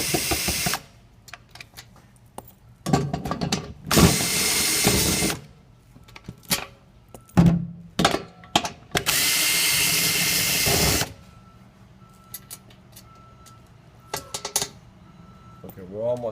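Power tool loosening bolts on the middle cushion section of a hydraulic bed, several loud whirring bursts of a few seconds each, one long run, separated by quieter gaps with handling clatter.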